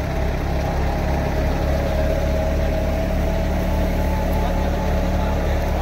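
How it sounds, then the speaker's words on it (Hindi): A tractor engine drives a jugaad-built thresher rotor and runs at a steady, loud, continuous drone with a low rumble. It stays close and constant throughout. "आपने ट्रैक्टर की आवाज़ सुनो"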